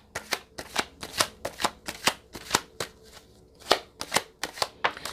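Tarot cards being shuffled in a steady run of about fourteen crisp riffling bursts with short gaps between them, close and clear, with no talking.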